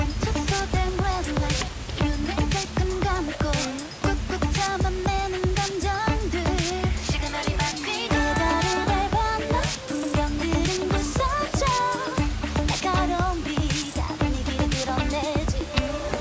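A song plays continuously, a dense, full-band pop track with steady beat and layered vocals, and no talking over it.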